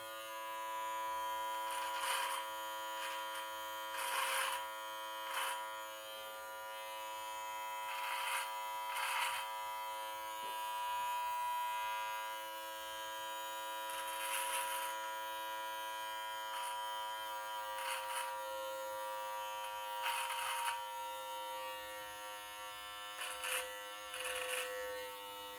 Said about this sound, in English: Sounds like my trimmer's winding down.